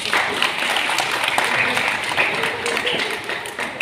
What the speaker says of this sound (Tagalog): Palakpak natin si Lord.